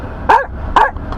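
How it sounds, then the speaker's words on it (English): A boxer dog barking outdoors on a snowy day, two sharp close barks about half a second apart followed by a faint third yip. "sorry about the dog."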